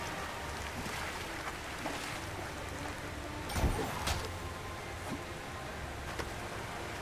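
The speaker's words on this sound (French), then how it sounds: "Le bruit de la cascade." Steady rushing waterfall ambience from the Jumanji video game, a broad continuous wash of falling water with a couple of brief louder splashes midway, moderate level and no talking.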